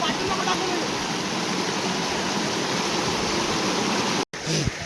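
A powerful waterfall at Kankeshwar roars as a loud, steady wash of rushing water, close by, with only a brief dropout near the end.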